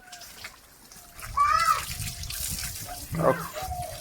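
Water splashes and pours while a cow is bathed, coming in moderate, uneven bursts under nearby voices, including a child's.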